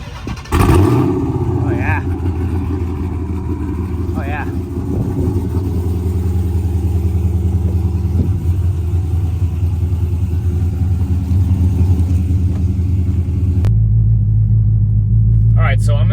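A Dodge Charger SRT engine turns over and catches with a sharp burst, then holds a loud, deep, steady rumble with a few quick revs rising over it before dropping to a lower idle at the end.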